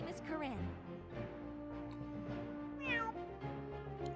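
A cartoon cat gives a short meow amid background music, close and clear, with brief speech-like tones around it.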